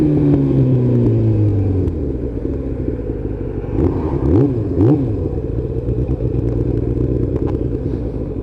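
A motorcycle engine drones steadily while riding, its pitch sliding down and then rising and falling through gear changes, loud and close throughout.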